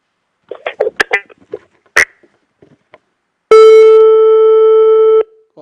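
A steady electronic on-hold tone on a phone line during a radio call-in show, a loud sustained beep lasting nearly two seconds after a few faint clicks and rustles.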